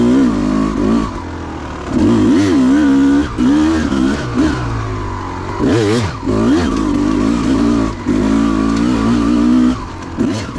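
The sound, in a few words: 2004 Kawasaki KX250 two-stroke dirt bike riding a trail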